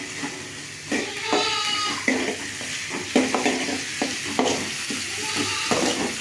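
Onions with green and dried red chillies, mustard seeds and chana dal sauté in a pan for tomato sambar, giving a steady sizzle broken by repeated scraping stirs, with no talking.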